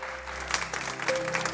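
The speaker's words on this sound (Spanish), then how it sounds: "Un aplauso para María y otro para José." Studio audience applauding on a Spanish television talk show, a steady burst of clapping lasting a couple of seconds with no talk over it.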